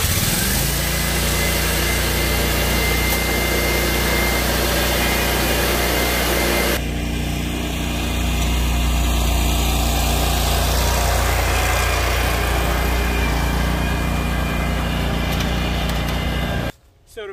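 A lawn mower fitted with standard blades runs steadily nearby, a loud continuous engine drone that shifts in tone partway through before cutting off abruptly at the end.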